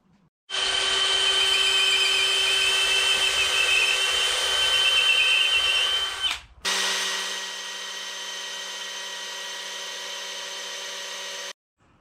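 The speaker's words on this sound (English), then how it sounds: "Now I'll move the board to that side and get that side drilled." A power drill bores holes through a wooden bed board, running as a loud, close, steady whine that stops briefly and then restarts at a slightly lower, even pitch for several more seconds.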